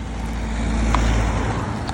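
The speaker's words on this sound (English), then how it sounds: "Sorry, another car." A car on a country road gives off a low steady engine and tyre rumble at moderate distance as it passes, a brief continuous drone without any voices.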